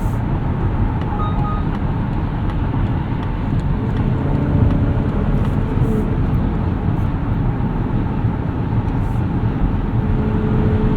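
Steady, loud cabin rumble of a 2025 Mazda CX-50 Hybrid cruising at highway speed, with broad road and tire roar plus a little wind noise, continuous and unchanging throughout.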